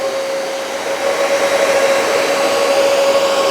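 Hoover PowerDash Pet carpet cleaners run continuously with a loud, steady motor whine and suction roar and a constant high tone, close and unbroken.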